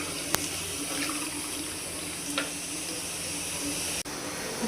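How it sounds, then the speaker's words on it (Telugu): Water from a mixer jar being rinsed and poured into a pan of palak paneer, a steady close hiss of running, splashing water with a couple of brief clinks. "ఇప్పుడు నేను దీనిలో మిక్సీలో జార్లో ఉన్నది కడిగి వాటర్ పోస్తున్నానండి"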